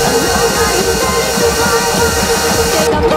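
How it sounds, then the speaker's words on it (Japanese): A train rushes past at night, loud and close, with a continuous roaring rumble and hiss of wheels and rail that stays steady throughout. "対向列車？ こんな時間に回送列車なんてあったか？"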